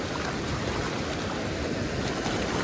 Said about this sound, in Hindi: देख रहे हैं झरना को, पूरा मजा गाइस, फुल एंजॉय बरवा घाट में।